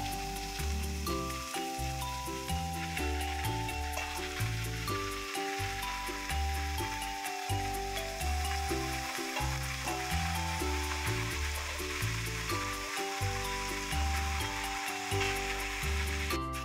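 About three kilos of thinly sliced, tenderized beef sizzles and fries in a large pan, a dense and steady crackle that runs on throughout under a prominent backing melody.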